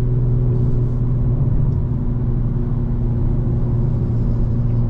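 A 2025 BMW M4 Competition xDrive in all-wheel-drive sport mode with exhaust valves open, heard from the cabin: a steady, smooth low engine drone and road rumble with no rasp, continuous and even throughout.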